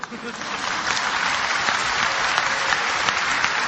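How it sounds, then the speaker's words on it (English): An audience at a religious debate claps, a dense, steady patter of many hands that builds over the first half-second and then holds loud and even throughout. "you're clapping"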